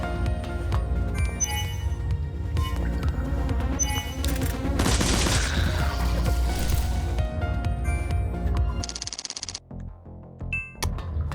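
Dense bursts of gunfire from the video game Parasite Mutant, loud and continuous across most of the stretch with clinking impacts and game effects, tapering near the end.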